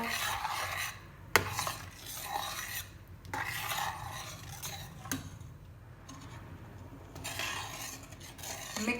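A spoon scraping and rubbing through a thick lentil and onion sauce in a pot, rhythmic rasping strokes with a few sharp knocks against the metal, close and moderately loud, no voices.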